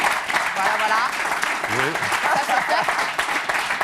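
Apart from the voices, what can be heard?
audience applause at a press conference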